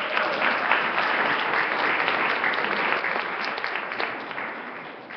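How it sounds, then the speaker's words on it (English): A sustained round of applause from a community audience at a live panel event, broad and even throughout, tapering slightly toward the end. "Let's give them all a round of applause."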